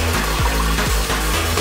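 Tap water runs into a sink while makeup brushes are rinsed under it, giving a steady, close splashing hiss with a low hum underneath.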